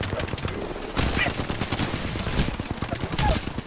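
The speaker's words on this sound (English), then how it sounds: "I sniped her in the air" Sniper and automatic gunfire in a video game arena match, a dense run of sharp repeated shots and bursts filling the whole stretch, loud and close with some talk mixed in.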